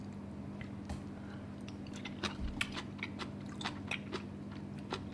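Close-up chewing of kimchi with rice, wet crunchy bites and squishy mastication in an irregular rhythm over a low steady background hum, with no talking.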